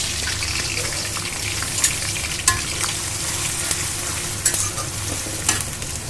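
Fish such as hilsa and snakehead frying and being stirred in a pan, a steady close sizzle with scraping stirs and a few sharper clanks over the oil hiss.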